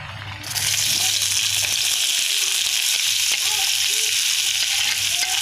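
Chopped shallots and onions drop into hot oil for prawn masala, bursting into a loud, dense, steady sizzle that starts abruptly and holds at full strength with faint bubbling crackles throughout.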